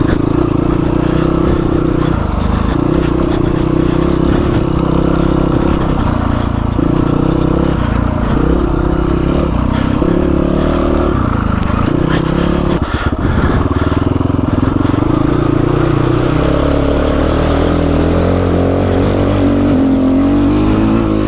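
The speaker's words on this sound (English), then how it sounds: "a lightweight dual sport bike." A GPX FSE300R lightweight dual sport motorcycle is ridden on a mountain road, its engine droning loud and steady with repeated rises and dips in revs as the rider shifts and throttles, wind noise riding over it throughout.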